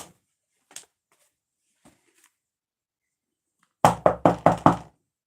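A hard knock at a door in a burst of five quick, loud raps in an even rhythm, close and sharp, after a few faint isolated taps in a mostly quiet room.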